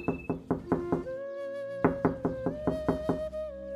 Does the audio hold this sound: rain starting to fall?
no